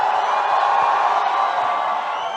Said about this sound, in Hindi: जरा जोर शोर से तालियां हो जाए।